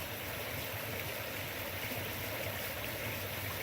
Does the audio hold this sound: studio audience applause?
no